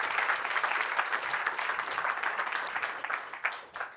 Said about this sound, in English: Big round of applause for Bharat.